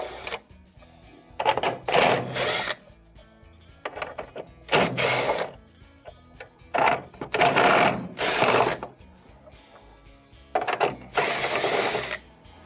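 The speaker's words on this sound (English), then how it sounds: "let's remove the screws that are holding on the actual control" A powered driver backs out the quarter-inch screws holding a dryer's main control board, making several short whirring bursts separated by pauses, each close and clear.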